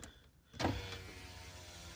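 Car power window with an auto-up function, the glass rising by itself: a short click, then a steady electric motor whir that continues evenly.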